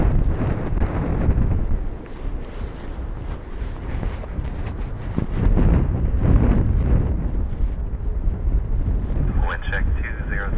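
Strong, gusty wind at Dublin Airport during a storm roars and buffets the microphone, swelling and easing over several seconds. A faint tonal whine creeps in near the end.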